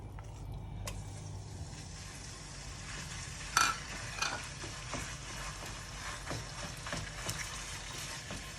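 Chicken meat frying in hot rice bran oil in a pan for Thai pad ga prao, a steady low sizzle with occasional scraping and stirring clinks, fairly quiet and continuous.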